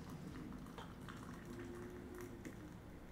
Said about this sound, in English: I'm gonna pour. I'm gonna let this steep.